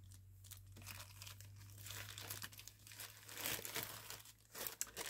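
Plastic packaging crinkles and crackles continuously as a set of 3D-printed dice is tucked back inside, close and fairly loud, with a few sharper rustles toward the end over a low steady hum.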